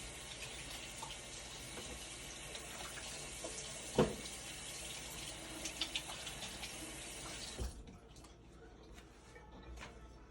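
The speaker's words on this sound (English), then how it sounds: "Let me rinse my thumb off here." Tap water runs steadily into a kitchen sink while a thumb is rinsed during baking, a continuous broadband splash that stops abruptly near the end, with a couple of small knocks and clatters.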